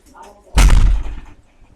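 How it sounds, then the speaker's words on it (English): A door thuds shut with one loud, close slam that decays into a short rumble, with brief speech just before. "Let's close this door"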